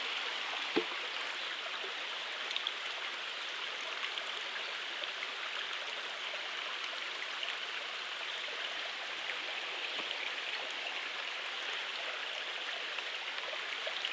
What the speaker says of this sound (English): This is the biggest flowing water I've seen since the Potomac.